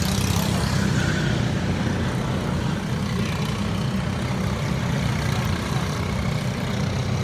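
A Praga race car engine in a sim racing game gives a dense, continuous, loud drone with a steady low rumble and broad high-frequency noise, and no clear changes in pitch.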